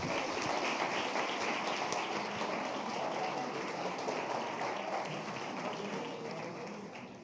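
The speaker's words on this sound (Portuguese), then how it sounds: "Vamos aplaudir Jesus?" A church congregation applauds during a celebration service, a soft, dense patter of many hands clapping evenly and fading slightly toward the end, heard at a distance.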